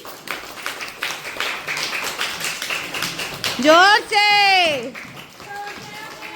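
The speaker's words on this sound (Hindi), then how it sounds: "ताली बजा दो सब अपने लिए एक बारी" A group of children claps in quick, scattered rhythm at a Republic Day camp gathering, then the clapping gives way to a loud adult voice.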